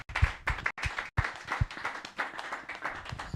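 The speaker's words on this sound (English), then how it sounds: "round of applause for Owen." An audience claps after a talk at an Ethereum meetup, a short burst of dense, fairly close applause with a few louder individual claps standing out, no voices over it.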